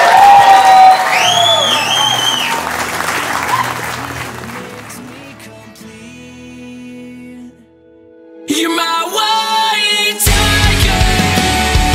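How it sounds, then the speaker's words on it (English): Wedding guests cheer and applaud the newlyweds as they are introduced, loud whoops and clapping at first, then a quieter lull before a sudden burst of strong applause and cheering that carries to the end. "Will you give a loud cheer and a big celebration?"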